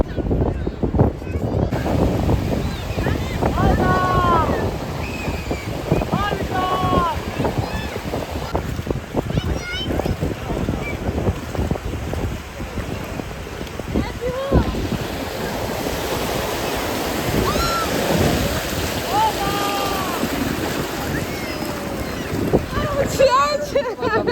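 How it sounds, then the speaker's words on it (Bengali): Sea wind and surf on the beach at Digha, a constant blustery roar with waves washing in beneath it and people talking over the top throughout. "কি হাওয়া, কি মিষ্টি, কি মিষ্টি।"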